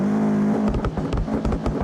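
A Subaru car engine in the BeamNG driving game revs with a sustained high drone, then breaks into choppy bursts of revving as it bounces off the limiter without changing gear, loud and close.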